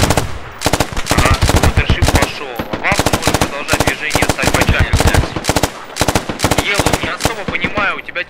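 Rapid automatic gunfire in the Squad military shooter game, loud sustained bursts of machine-gun fire with brief pauses between them, dense and close throughout.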